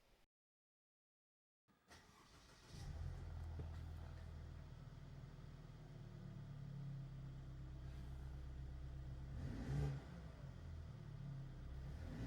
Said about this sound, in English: I want to start the car and just give this a couple revs